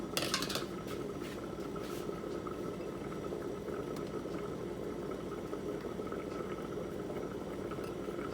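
Onions sizzle in olive oil in a pan, a steady close crackling hiss that holds evenly throughout, with a few sharper crackles at the very start.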